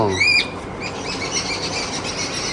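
A cockatiel gives a shrill, sliding call to open the stretch, followed by soft fluttering wingbeats and a few quieter chirps close by.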